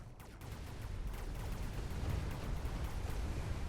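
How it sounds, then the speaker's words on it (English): Missiles explode in a chaotic barrage during a Mechabellum battle: a continuous, rumbling wash of overlapping blasts with a few sharper cracks at the start, fairly low in level. "a ton of missile going down. Just chaos everywhere."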